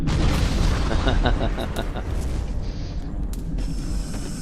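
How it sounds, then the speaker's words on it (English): Torpedo strikes detonating in the space combat game Infinity: Battlescape, a run of loud rumbling booms with a few sharp pops layered over continuous low engine and weapon noise. "That was another torpedo. Another 2. Another hit"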